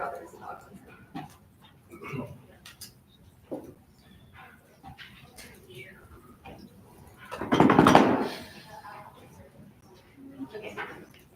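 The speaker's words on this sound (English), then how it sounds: "Oh, I forgot there was a dog on." A dog barks and whimpers in short yips scattered through the scene, with one louder burst of barking midway, while people talk over it.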